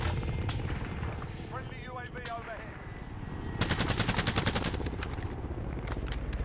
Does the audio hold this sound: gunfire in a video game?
yes